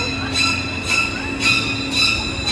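A Universal Studios Hollywood studio tour tram rolls along, its steady rumble broken by repeated squeals and clacks of the wheels, close and fairly loud, with no talk.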